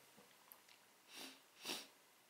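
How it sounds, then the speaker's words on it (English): Two short, close nasal sniffs at an item from a French-style military ration pack, the second slightly stronger, over a quiet background with no talking. "God, why must I sniff things?"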